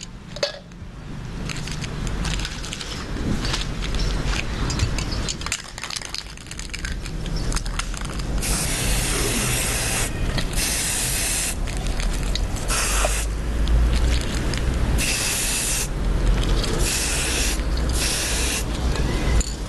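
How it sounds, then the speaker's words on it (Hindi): Red spray paint hisses from an aerosol can onto a pipe, long continuous bursts of loud spray broken by short pauses, with light clatter underneath. "अब ये स्प्रे पेंट मैं रेड कलर का ले रही हूँ।"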